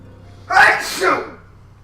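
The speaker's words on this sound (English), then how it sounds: "Shotgun sneezes for the win." A single loud, close sneeze with a sharp two-part burst, followed by quiet.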